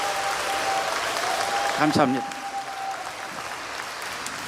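An audience in a conference hall at a Catholic Holy Spirit gathering gives sustained, dense applause after a sung rendition of "Danny Boy", while someone briefly speaks a word of thanks over the clapping.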